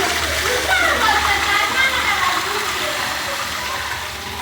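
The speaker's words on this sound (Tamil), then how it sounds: "ஃபால்ஸ் திறந்துட்டாங்க." Water gushes from an opened waterfall, a steady loud rushing splash that holds throughout, with faint voices mixed into the roar.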